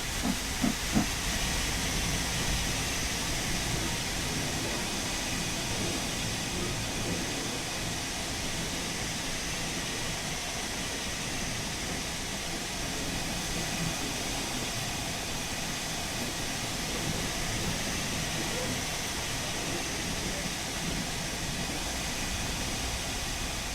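Continuous steady hiss of steam from an LMS Stanier Class 8F steam locomotive as the regulator is opened in Train Sim World, a broad unchanging rush with a few faint knocks at the start, no speech.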